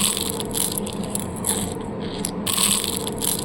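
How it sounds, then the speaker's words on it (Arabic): Crisp phyllo (galash) pastry soaked in cold heavy syrup being crunched, giving a steady close run of crackly, scraping crunches with no talking. "اسمعوا كده صوت القرمشة"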